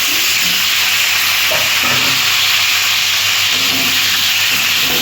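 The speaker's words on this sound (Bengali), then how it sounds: "ওল আর আলুটা আমি ভালো করে ভেজে নেব" Pieces of boiled elephant foot yam and potato fry in hot oil with a steady, loud, hissing sizzle that runs unbroken throughout.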